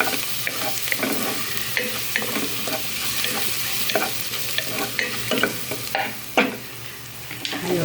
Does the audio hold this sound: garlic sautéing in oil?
yes